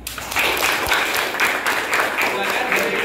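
Students in a classroom applaud after a presentation, a continuous patter of many hands clapping at moderate loudness throughout, with no speech over it.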